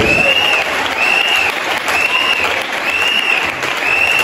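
A church congregation at a tribute gathering breaks into sustained applause, dense clapping from many hands filling the room steadily, with a few faint voices mixed in.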